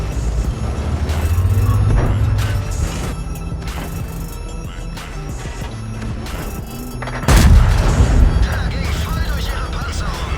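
Tank cannons firing in World of Tanks, heavy booms and gunfire bursts under continuous engine rumble, with one loud close blast standing out near the end amid busy battle noise.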